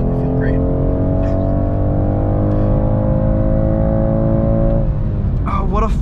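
A 2022 BMW 230i Coupe engine pulls hard under acceleration, a loud steady drone climbing smoothly in pitch for several seconds before easing off, with a voice briefly heard near the end.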